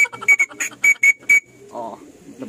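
A pigeon fancier blows a whistle to call racing pigeons down to the loft, giving a rapid series of about eight sharp, loud, close blasts in a stuttering rhythm, then a short murmur.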